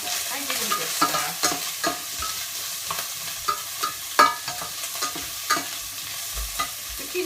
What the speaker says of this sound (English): I give it a good stir.